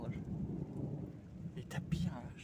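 Thunder rumbling low and continuous during a moderate September thunderstorm at Villers-Bocage in Normandy, with rain falling steadily and brief sharper bursts near the end, heard at moderate distance.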